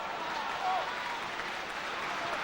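Crowd at an Ipswich Town UEFA Cup football match against Torpedo Moskva, a steady roar of applause and cheering filling the stadium, with commentary voices faintly underneath.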